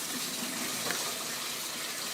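Running water pours steadily over soaked beans being rinsed after a salt-water soak in a home kitchen, a continuous even gush from a tap, close and moderately loud, with no voices.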